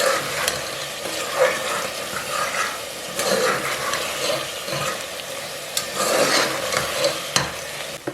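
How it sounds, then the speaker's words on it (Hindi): Food sizzles and fries steadily in a pan while a utensil stirs and scrapes at intervals, close and fairly loud, with no talking, while cooking potato masala pulao. "अच्छे से फ्राई करेंगे।"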